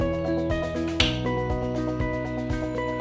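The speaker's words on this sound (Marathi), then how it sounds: "पहिले गॅस चालू करून घेऊ" A household gas stove is switched on with one sharp ignition click over steady, loud background music.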